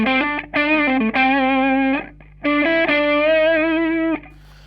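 Electric guitar played through a Line 6 Pod on its Pod Crunch amp model, a crunchy distorted tone picking out a few sustained phrases with a short pause in the middle, loud and close with no talking.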